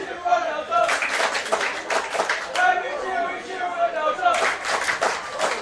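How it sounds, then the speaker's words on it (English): Delta team supporters cheer loudly at a high school ultimate frisbee championship gold medal game, with rhythmic group voices and scattered clapping close by, lasting the whole stretch. "And now the Delta cheer is still coming through"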